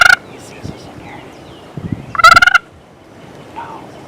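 A wild turkey gobbles during a Kansas hunt, two sharp rattling bursts, the second louder and nearer, amid quiet woods with a few soft knocks.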